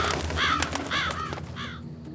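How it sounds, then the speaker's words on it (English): Crows cawing in a cartoon scene, three or four harsh, hoarse calls spaced in a loose rhythm, close and clear. "it's just birds"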